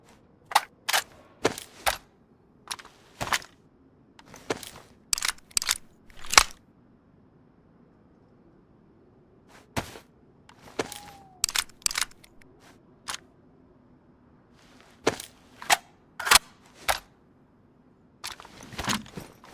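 Video-game gun being loaded and fired, heard as sharp, loud, isolated clicks and cracks arriving in irregular clusters over quiet low background hum.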